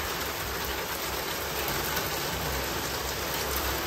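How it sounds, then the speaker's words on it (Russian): A heavy rain downpour pours steadily and loudly, its dense hiss unbroken for the whole stretch. No voices come through. "Просто ливень."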